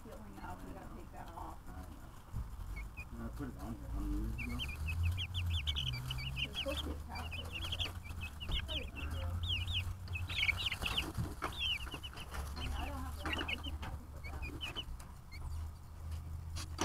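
A chick chirps and clucks in rapid bursts of high peeps for several seconds, with low background rumble and some faint talking.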